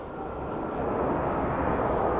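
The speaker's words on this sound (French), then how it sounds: "les avions du défilé qui passent au-dessus" Aircraft from a parade pass overhead at a vintage car gathering, giving a steady, broad engine roar that builds slightly and holds throughout, with no talk.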